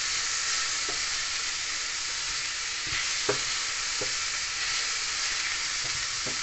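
Pork browns in a pan with a steady loud sizzle and a few soft clicks of stirring, and no voices.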